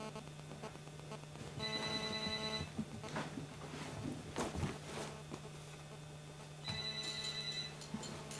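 A mobile phone plays an electronic ringtone indoors, two clear melodic bursts separated by a pause of about four seconds over a faint steady hum, with no talking.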